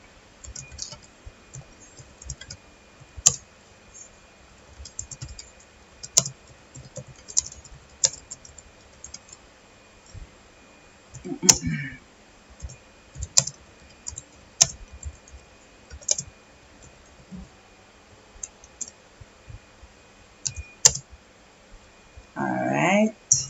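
Typing on a computer keyboard to enter a pinned chat message: irregular bursts of sharp key clicks spread over the whole stretch, close and moderately loud, with a few brief voice sounds between the keystrokes.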